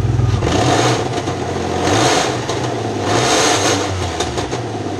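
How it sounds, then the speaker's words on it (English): A nearby car engine with a clogged catalytic converter revs hard twice to the rev limiter, climbing to a buzzing, clattering peak each time before dropping back to a rough idle. "That was the rev limiter right there."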